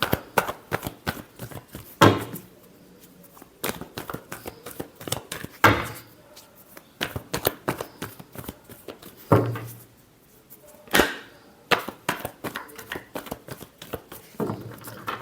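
A deck of cards shuffled by hand in several quick riffling bursts, crisp and close, separated by short pauses and soft handling noises.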